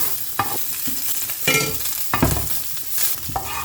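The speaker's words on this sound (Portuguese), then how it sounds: "vou colocar também a calabresa, que aí ela vai soltar a gordura aqui" Sliced calabresa sausage frying in oil in a pan, a steady close sizzle broken by several sharp scraping stirs, with no voices.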